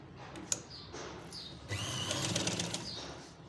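A sewing machine stitching lace onto the corner of a dupatta, short whirring bursts followed by a longer steady run of rapid needle clatter, close and quiet, with no talk.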